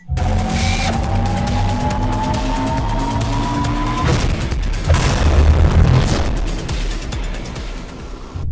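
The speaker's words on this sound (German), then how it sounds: "Ja, wir explodieren" Explosion in the video game The Henry Stickmin Collection, a loud, sustained booming rumble with a falling tone, rising into a heavier burst midway and filling the whole stretch.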